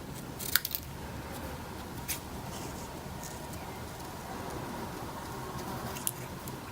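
Scissors snip through scraps of paper for a ballerina bookmark's tiny shoes and feet, giving a few faint, quick crisp cuts spaced irregularly over quiet room hiss, with no talk.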